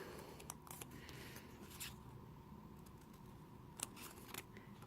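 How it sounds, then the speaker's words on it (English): Scissors snip a paper card tab along a die-scored mark in faint, close, scattered cuts, with a few sharper crisp snips between quiet pauses. "So you cut that out and there's your tab."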